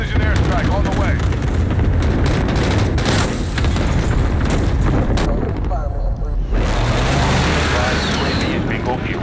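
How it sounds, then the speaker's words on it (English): Precision airstrike explosions in a military shooter video game, loud rumbling booms and blasts filling the scene continuously, with a brief lull before a fresh heavy wave of detonations; voices speak over the din. "Friendly precision airstrike on the way."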